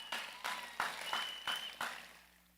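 A large crowd at a cabinet swearing-in ceremony claps, about six loud, echoing beats in near unison that fade out quickly.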